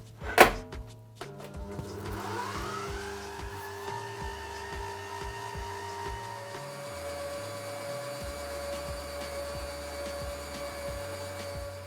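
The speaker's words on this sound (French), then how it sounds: "Dans la cuve du robot, on va y verser notre crème fraîche. On commence par fouetter à basse vitesse." A food processor whisks crème fraîche at low speed, starting with a sharp clunk and then settling into a steady mechanical whir with a tonal motor hum that holds for the rest of the stretch, with no talking.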